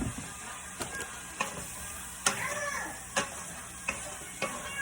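Food hits a pan with plenty of olive oil, giving a steady soft sizzle with a few sharp clicks and scrapes of stirring at intervals, close and fairly quiet.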